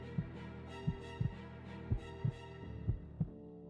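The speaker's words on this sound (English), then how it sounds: "The heartbeat is wild." A bass-boosted heartbeat sound effect from audio production plays alone: deep, thudding pulses repeat in a steady rhythm, about eight beats in all, some doubled like a lub-dub.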